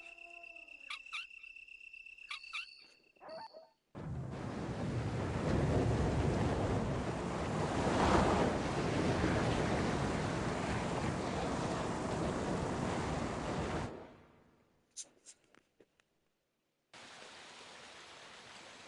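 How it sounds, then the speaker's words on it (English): In Resident Evil Director's Cut, water runs and drains in a loud, steady rushing wash for about ten seconds. It starts and cuts off abruptly, with faint game effects before and after. "The water is running down the opposite side."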